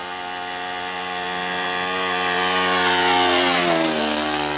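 A Saito 125A four-stroke engine on an RC Super SkyBolt biplane roars steadily close by, rising in pitch and loudness, then swooping lower with a Doppler-like drop as the plane passes.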